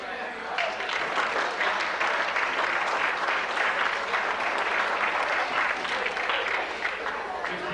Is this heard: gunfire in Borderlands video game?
no